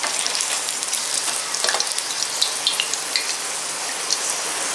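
Scotch eggs deep frying in hot oil give a constant, bright crackling sizzle with a few small pops, close and steady, with no voices.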